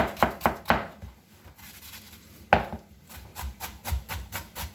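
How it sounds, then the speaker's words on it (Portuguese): An onion is chopped with a knife on a cutting board, a few quick close taps, a short pause, then a steady run of rhythmic chops, fairly quiet and with no talking. "vamos começar por picar uma cebola"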